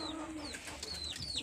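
Pigeons kept in a breeding setup that includes a clay pot give faint chirps and soft calls over a quiet background.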